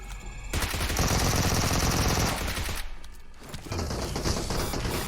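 Gunfire from the battle-royale game PUBG Mobile: dense, loud automatic bursts roll on nearly continuously, with a short dip in the middle before the shooting picks up again, and no talk over it.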